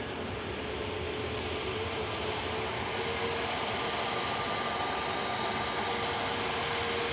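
An Airbus A330 taxis toward the runway at Manchester Airport, giving a steady, broad engine hum and rushing roar at moderate distance with a faint tonal whine, continuous and unbroken without talk.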